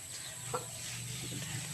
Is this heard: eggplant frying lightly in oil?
no